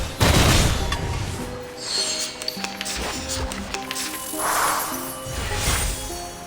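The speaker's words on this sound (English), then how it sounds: "Wanna watch the aerial stunts? Crackers and fireworks!" Firecrackers and fireworks go off in a video game during an aerial stunt sequence: a dense crackling barrage with booming bursts, clinks and musical tones layered over it, loud and continuous.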